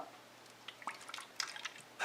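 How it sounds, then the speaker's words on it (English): Water trickling and dripping into the small tank of an Arctic Air Ultra Pro cooler, with soft, irregular splashes and gurgles close by and fairly quiet. "try and fill it with water"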